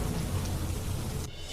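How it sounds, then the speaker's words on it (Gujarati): Heavy rain with strong wind over Bhavnagar district villages, a dense, steady roar of downpour and gusts filling the whole stretch, loud and continuous, dropping slightly in the final moments. "અનેક વિસ્તારમાં ભારે પવન સાથે પડ્યો ધોધમાર વરસાદ."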